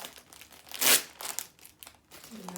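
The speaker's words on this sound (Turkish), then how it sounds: "Paket açılıyor." A New Year gift package being unwrapped, with a loud crinkle and rip of tape and paper, then smaller crumpling rustles, close by and quiet between bursts.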